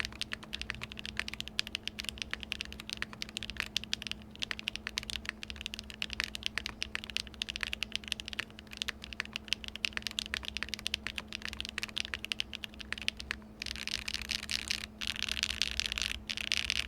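Steady, rapid typing on a Zoom 75 Tiga mechanical keyboard with black arowana switches, ABS keycaps and an aluminum plate with flex cuts on a 1.6 non-flex PCB. The key clicks are quiet and close over a low constant hum.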